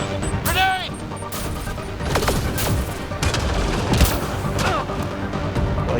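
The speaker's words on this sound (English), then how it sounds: "Grenade!" Explosions and gunfire erupt in a Mass Effect Andromeda combat scene: a loud grenade blast amid repeated rapid gunshots and crashes, layered with game music and effects, while a voice speaks over the action.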